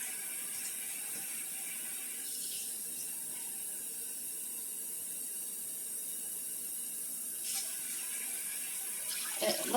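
Water runs steadily from a kitchen tap into a mug while soup is being made, a soft continuous hiss with a few clinks near the end and no talk.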